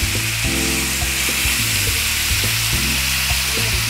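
Filet mignon browning in a hot pan with onions and green peppers, a constant loud sizzle under a steady humming drone that runs without a break.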